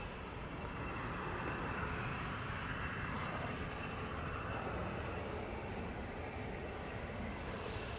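An airliner on its short flight to Dublin taking off from Manchester Airport, a broad, steady jet roar held at a distance for several seconds, fairly faint and unbroken, with no one talking.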